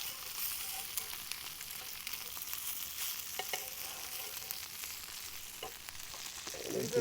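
Fish frying on a tawa by a riverside, a steady close hiss of hot oil with a few soft scrapes and a brief crackle near the end.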